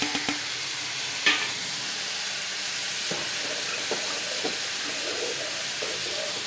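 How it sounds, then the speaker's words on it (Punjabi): Onions sizzle steadily in hot oil in a pan while a kadhi is prepared, with occasional soft clicks of a spoon stirring them through the constant hiss. "ਮੈਂ ਇੱਕ ਪਿਆਜ਼ ਪਾ ਲਏ ਹੁਣ ਆਪਾਂ ਪਿਆਜ਼ਾਂ ਨੂੰ ਭੁੰਨਾਂਗੇ ਚੰਗੀ ਤਰ੍ਹਾਂ ਨਾਲ"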